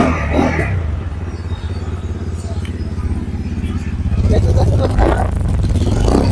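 A Taro GP V-4 motorcycle with an original exhaust and muffler idles and rumbles steadily nearby, its low throbbing exhaust swelling slightly toward the end while someone talks over it.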